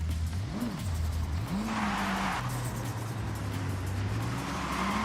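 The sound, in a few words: car engine revving in video game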